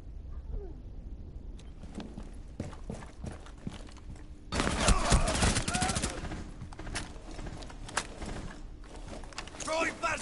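Bursts of gunfire in a tactical shooter video game, loud clustered shots and rapid volleys with a sustained heavy burst in the middle, mixed with movement noises and voices talking over the action.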